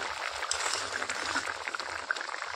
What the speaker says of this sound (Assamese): এতিয়া ধুনীয়াকৈ উতলি আছে